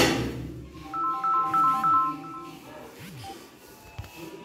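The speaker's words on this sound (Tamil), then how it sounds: "வேற ஒன்றும் இல்லை, சும்மா ஒரு சின்னோண்டு ஃபோன்." A small phone rings with a melodic ringtone, a bright run of stepped tones at moderate volume over a muffled background of shuffling and indistinct voices.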